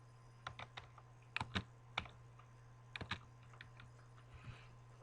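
Fingers tap on a computer keyboard, a quiet scatter of short clicks in small irregular bursts over a steady low electrical hum, with no voices.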